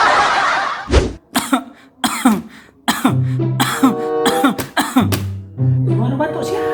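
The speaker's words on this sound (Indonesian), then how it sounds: "Gimana batuk siapa itu?" A person coughs repeatedly in sharp, loud bursts amid speech-like vocal sounds, close to the microphone.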